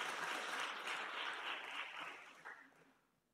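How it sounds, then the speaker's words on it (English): A parliamentary audience applauds during a South African presidential budget vote address, a dense burst of clapping heard from a distance that fades out over about three seconds. "they do indeed deserve a round of applause from all of us"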